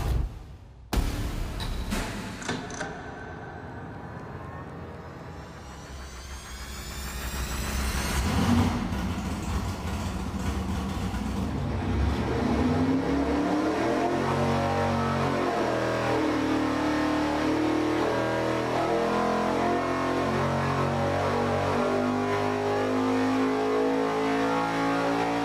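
A V8 engine on an engine dyno cranks, catches, and idles, then is run up under load in a long, loud power pull, its deep roar climbing steadily in pitch and holding strong at high revs.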